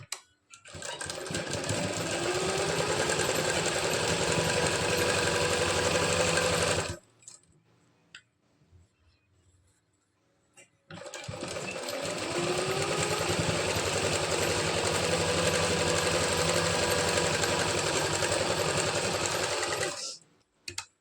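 A sewing machine stitches close along the edge of a blouse belt strip in two long, loud, steady runs of fast mechanical rattling, split by a quiet pause with faint handling sounds.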